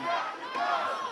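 Large Antifa protest crowd marching toward the ICE facility in Portland, Oregon, a dense continuous roar of many shouting voices, loud and close, swelling and dipping slightly without a break.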